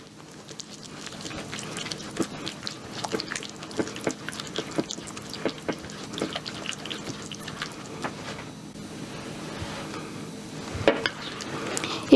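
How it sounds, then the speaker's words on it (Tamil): A spoon or hand works through tandoori chicken marinade with oil and salt in a bowl, giving soft, irregular wet clicks and scrapes at close range with no talking. "இப்போ இதெல்லாம் நல்லா மிக்ஸ் பண்ணிக்கலாம்."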